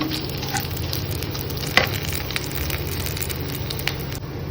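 Steady sizzling of onions sautéing in a hot pan, a continuous crackling hiss with a few brief clinks, no voices.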